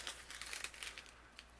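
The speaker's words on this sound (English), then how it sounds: "Okay, I'm going to take some foil here." A sheet of craft foil crinkles softly as it is handled, with a string of light, brief crackles that fade out in the last moments, alone and close by.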